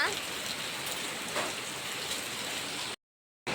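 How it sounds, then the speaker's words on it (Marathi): Heavy rain pours down in a dense, steady roar, briefly cutting out to silence near the end. "आज ना पाऊस खूपच असा बघू शकता"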